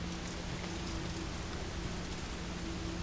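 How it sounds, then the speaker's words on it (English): Rain falls steadily against a window in the video game Fatal Frame: Maiden of Black Water, a soft, even hiss that runs without a break and without voices. "Sound of raindrops on the window echoes faintly."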